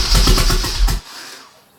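A turbocharged Nissan 240SX engine cranks in a quick rhythmic burst for about a second, then cuts off to quiet.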